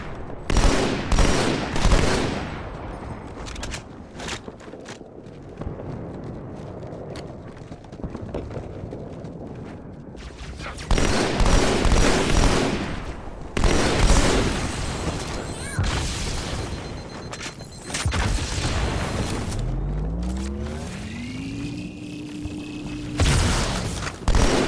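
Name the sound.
battle rifle gunfire in the video game Halo 2 Anniversary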